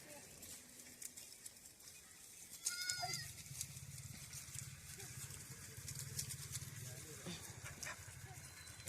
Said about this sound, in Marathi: आता बघा आता मेंढ्या आतमध्ये जातील इथून